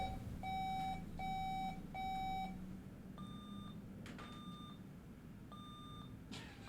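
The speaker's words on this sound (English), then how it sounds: "Do you want to do a buzzer check?" Electronic quiz buzzers sound in turn during a buzzer check at a Hamilton City Council meeting: three steady, evenly spaced beeps, then three shorter, higher tones with gaps between them, over a low background hum.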